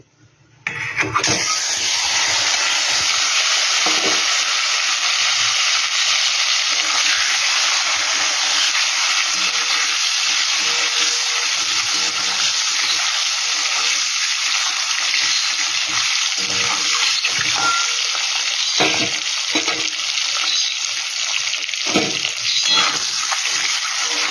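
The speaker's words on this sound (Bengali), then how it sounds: "একই তেলে আমি ডিমটা ভেজে নিচ্ছি।" An egg fries in the same oil used for potatoes, producing a loud, constant close sizzle with scattered pops and crackles, no talk over it.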